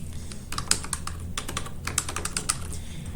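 Quick, uneven keystrokes on a computer keyboard as a client's name is entered into practice-management software, the clicks close and crisp with no talking.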